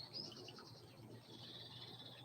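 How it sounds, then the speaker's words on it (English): Birds tweet outdoors among trees, a faint, steady run of small high chirps spread over a constant background hiss, with no voices. "The birds tweeting, dogs barking."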